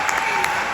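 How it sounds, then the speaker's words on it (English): Pageant audience applause for the committee, a brief burst of clapping caught mid-stream. "Can we give a round of applause for the committee?"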